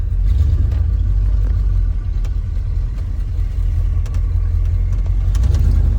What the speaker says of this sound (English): There we go, first driving the truck.